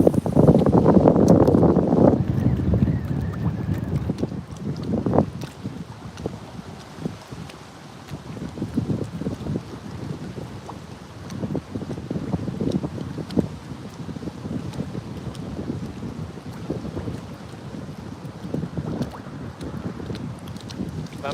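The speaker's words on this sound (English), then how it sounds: "You see my beard blowing in the wind, you probably hear it too." Strong gusty wind buffets the microphone on a choppy lake from a kayak, loud rumbling at first, then uneven bursts of wind and water noise, with no one speaking.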